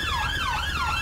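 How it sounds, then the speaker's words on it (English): British police siren in GTA 5 with the LSPDFR patrol mod, a loud wailing tone that sweeps up and down steadily over a low engine rumble. "These sirens, man."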